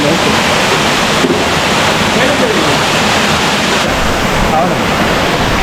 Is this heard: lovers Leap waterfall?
yes